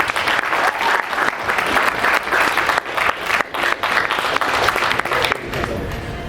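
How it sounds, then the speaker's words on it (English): Lively applause for Chase at a post-fight press conference, close, loud clapping with uneven bursts, some cheering from the crowd mixed in. "Guys, give Chase one more round of applause."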